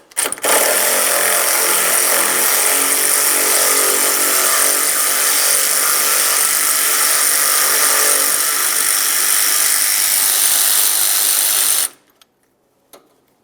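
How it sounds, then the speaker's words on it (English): A power tool, likely a cordless ratchet or driver, runs loud and steady for about eleven seconds as it backs out two 8mm-head bolts holding the hood release on a 2003-2011 Mercury Grand Marquis, then cuts off abruptly. "we'll remove our 2 8mm headed bolts holding it in place"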